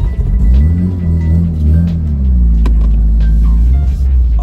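A Subaru BRZ with a swapped-in RX-7 13B rotary engine idles while reversing, a loud, close, low throbbing burble with a slight rise and fall in pitch and no talking.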